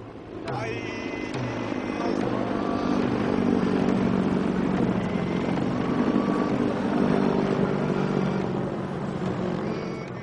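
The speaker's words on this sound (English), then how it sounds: "giant American helicopters circled above us, intimidating as always" Giant American military helicopters circle low overhead in Okinawa, a loud, steady rotor and engine drone that swells and holds for the whole stretch with no talk over it.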